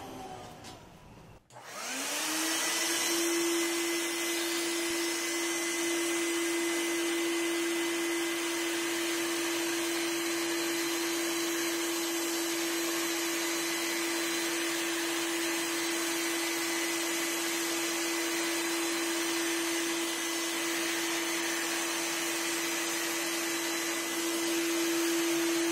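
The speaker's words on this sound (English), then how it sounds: "Remember to attach the paint sprayer to the output side of the shop vac and not to the suction side." A shop vac runs steadily on its output side, pushing air through a homemade plastic-bottle paint sprayer: a loud, continuous whooshing roar with a steady motor whine that starts abruptly and holds for the rest of the clip.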